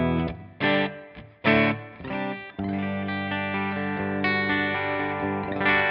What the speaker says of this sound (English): I have my Gibson Les Paul Jr. with a single P90 in the bridge.